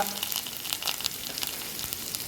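Shallots, dried red chillies and curry leaves frying with popped mustard seeds in hot oil, a loud dense crackling sizzle with rapid spits and pops throughout, close and continuous, no speech.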